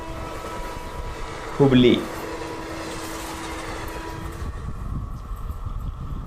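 An unfamiliar new diesel locomotive passes on an Indian railway with a steady rolling rumble and a short, loud horn-like blast, while someone talks over it.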